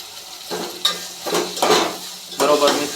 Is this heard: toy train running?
no